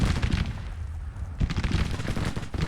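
Dense musket volleys crackle and roll from infantry brigades in a Civil War strategy game battle, loud and continuous with overlapping shots and distant booms.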